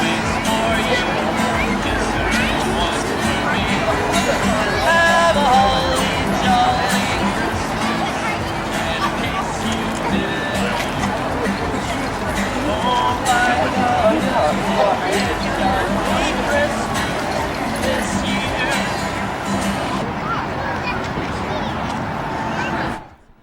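Dense crowd chatter at the Austin Trail of Lights Christmas light festival on its last night, steady loud babble of many voices close around, continuous for the whole stretch before cutting off abruptly at the end.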